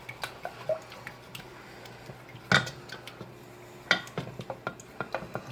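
English-style scrambled eggs are whisked in a pan over the heat, with irregular metal taps and scrapes, some of them sharper knocks, against a quiet background.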